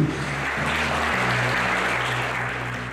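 Steady applause from a cinema audience at a film premiere, a dense, even wash of many hands clapping that holds for several seconds and eases slightly at the end, with a low hum beneath it.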